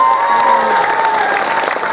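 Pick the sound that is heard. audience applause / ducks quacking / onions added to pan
audience applause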